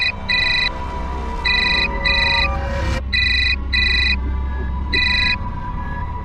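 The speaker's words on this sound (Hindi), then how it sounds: "तुम्हें फोन कर रहा है, तुम बात कर लो" A phone rings in short repeated electronic trills, steady and close, over a low background hum, with a brief rising chirp midway.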